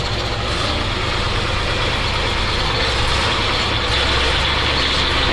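Steady close rumble from a ZIL-4975 off-road truck in low gear, pulling away over rough ground: continuous heavy engine drone with broadband noise, fairly loud and unbroken, no voices.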